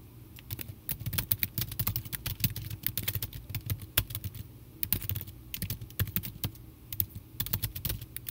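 Someone types on a computer keyboard, producing rapid, irregular clicking keystrokes close by, with brief pauses between bursts and no speech.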